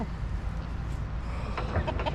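Chickens, including a large eagle-like breed, cluck softly in the background over a steady outdoor rumble, with a few short clucks rising toward the end.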